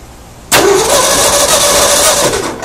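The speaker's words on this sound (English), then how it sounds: "I'm just going to bump the engine over and see if I'm getting spark." A 1972 Ford Bronco engine cranks over with a sudden loud onset, the starter whirring steadily and the engine churning close up for about two seconds before easing off.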